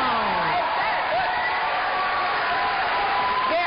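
Debate audience applauds with cheers and whoops, a dense, loud crowd sound filling the whole stretch with some voices mixed in.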